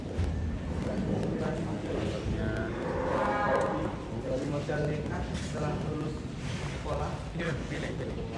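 Cattle moo repeatedly inside a large cattle shed in Tangerang, several drawn-out calls rising over a constant din of people talking nearby.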